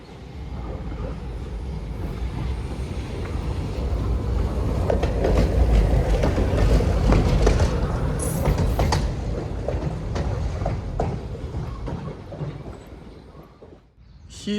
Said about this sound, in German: Da kommt noch eine Straßenbahn.